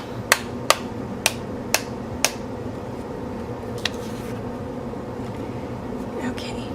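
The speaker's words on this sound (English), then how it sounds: "I'm going to just tap off the excess." A glitter-coated card tapped to shake off excess glitter, five sharp, evenly spaced knocks followed by one softer tap over a low room hum.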